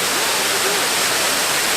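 Waterfall at Oued Zitoun in Tunisia, a steady broadband roar of falling water filling the whole clip, loud and close, with no break.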